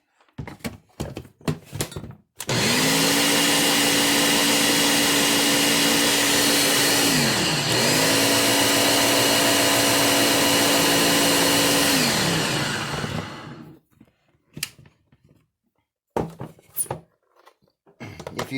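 Blender whirring loudly as it mixes a homemade anti-wrinkle cream, running steadily for about eleven seconds with a brief dip in pitch midway, framed by knocks and clatter before and after.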